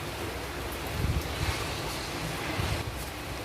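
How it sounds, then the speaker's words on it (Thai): Strong wind blowing outdoors on a Finnish or Swedish wild berry-picking trip, a loud, steady broadband roar with gusty buffeting against the microphone, no speech. "ลมแรงมาก"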